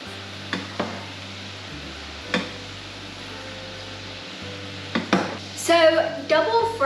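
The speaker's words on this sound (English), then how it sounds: "now that our oil has rose back to the original temperature, we're gonna put these fries back in" Fries dropped back into hot oil for their second fry give a steady, soft sizzle with a low background hum, a few stirring clicks, and clattering utensil sounds toward the end.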